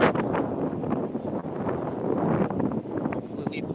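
Strong wind buffets an outdoor microphone at Moffat Golf Club, a constant rough roar with gusty swells lasting the whole stretch while someone speaks over it.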